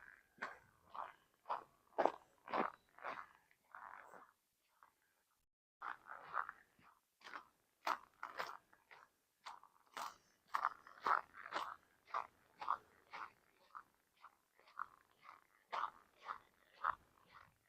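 Boots crunch on snow on a winter walk around a lake. The steps come in a steady, close rhythm of crisp crunches, with a brief pause near the middle, and no talk.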